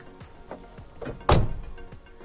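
The split tailgate of a 2021 Ram EcoDiesel truck swings open barn-door style, giving a few light clicks and latch taps before one solid thunk, close up, with no talk.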